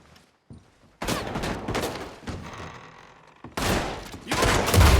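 Loud bursts of gunfire in Red Dead Redemption come as a dense fusillade of repeated shots and impacts in two long volleys separated by a short lull, close and harsh.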